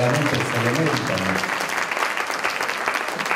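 Audience applause at a concert during a fraternity festival, dense and steady clapping filling the hall throughout, with some voices mixed in.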